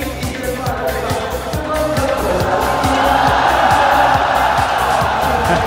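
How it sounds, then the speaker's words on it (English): A crowd at a World Cyber Games grand final gaming event roars and cheers in a steady, swelling wave, with rhythmic clapping and a commentator speaking over the noise. "The crowd erupting to our Chinese colleagues next door to us"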